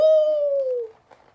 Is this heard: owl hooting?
yes